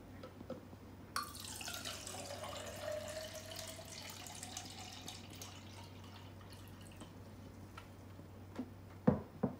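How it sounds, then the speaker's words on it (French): About 300 ml of water runs from a tap for a chia seed hair gel, a steady stream with a pitch that rises as the container fills, then stops with a couple of close knocks at the end. "Je vais utiliser à peu près 300 ml d'eau."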